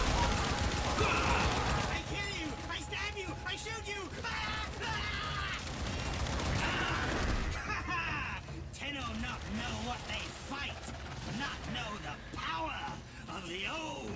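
Rapid gunfire from weapons in the shooter game Warframe crackles in dense bursts beneath a player's talking and game sound effects, with steady busy shooting through most of the stretch.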